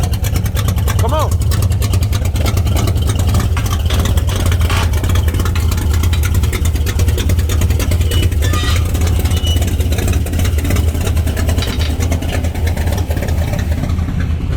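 A car engine running rough, its loud, close idle throbbing in an uneven, pulsing rumble that carries on without letting up, with a voice heard faintly alongside.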